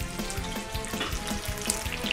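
Chopped onions hit hot fat in a pan for Transcarpathian lecho and sizzle steadily, a close, continuous frying hiss with small crackles and pops throughout, no voices.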